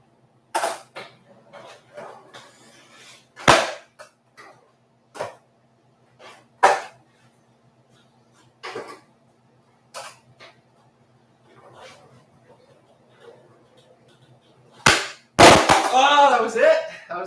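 A skateboard on a shop floor during triple kickflip attempts gives sharp isolated pops and landing slaps spread out over time, one loud clattering landing near the end with a rolling tail, close by amid quiet gaps.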